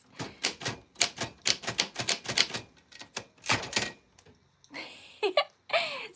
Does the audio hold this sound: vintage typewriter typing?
yes